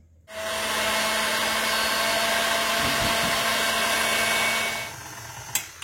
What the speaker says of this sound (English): Next I'm going to whisk my cream.